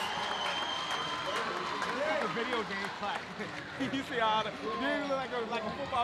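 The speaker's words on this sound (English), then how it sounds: "Jordan the foul, Husky crowd comes to life." A home crowd at a girls' high school basketball game roars and claps after a foul, with a commentator talking steadily over the swelling cheers and squeaking sneakers.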